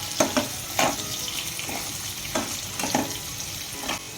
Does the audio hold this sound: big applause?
no